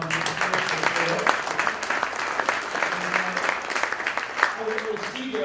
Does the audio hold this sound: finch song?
no